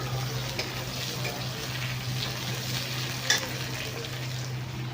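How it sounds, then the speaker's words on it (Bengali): Eggplant slices fry steadily in a pan, a constant crackling sizzle with an electrical hum beneath and one brief clatter near the end, with no talking. "বেগুনটা একটু ভেজে নিই।"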